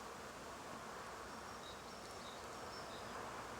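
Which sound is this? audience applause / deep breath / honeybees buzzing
honeybees buzzing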